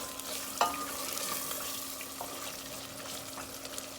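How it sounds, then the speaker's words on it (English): Potatoes stirred into frying masala in a pot for a Guyanese vegetable dish, a steady close sizzle with occasional scraping knocks of the spoon, no talking. "I'm gonna add the potatoes. We're gonna mix this in a little."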